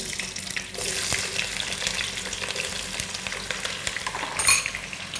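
Onions frying in a pot give a loud, steady sizzle with stirring scrapes close by and a brief brighter flare near the end, with no talk over it.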